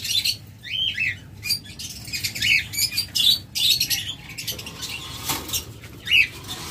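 A pair of green opaline lovebirds in a pet market in Bangladesh, wings flapping in repeated bursts along with sharp squawks and short chirps, close and fairly loud without speech.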